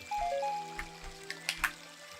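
Zora's River in the video game Zelda: Ocarina of Time gives faint trickling water, with a few soft splashy drips over a quiet tonal game backdrop and no voices.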